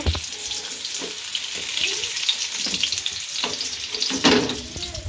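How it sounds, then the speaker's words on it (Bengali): Green beans (sheem) frying in oil in a pan crackle and hiss steadily up close, with scattered knocks and scrapes of stirring and a brief louder clatter near the end. "আরে এই দেখুন গাইস, সিম ভাজা হচ্ছে এখানে।"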